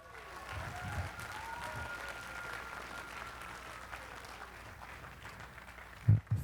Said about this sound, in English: Please join me in thanking all these sponsors now with a round of applause.